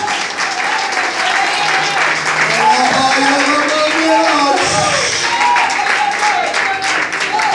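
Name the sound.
congregation applauding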